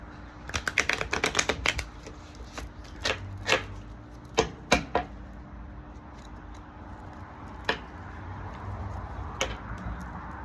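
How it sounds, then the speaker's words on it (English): Playing cards are riffled and bridged in quick crisp bursts, followed by scattered sharp taps and flicks with quiet gaps between. "This deck is kind of hard to shuffle sometimes."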